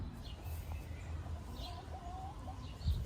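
Backyard chickens cluck softly and intermittently, with quiet farmyard ambience around them and no one talking.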